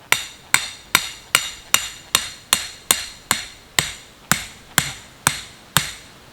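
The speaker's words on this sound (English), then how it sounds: "Hammer it in." A hammer drives a length of rebar into the ground to mark a corner for a pole barn, with about fourteen sharp metallic strikes in an even, steady rhythm, loud and close, and no talking.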